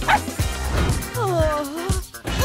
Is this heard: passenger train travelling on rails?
no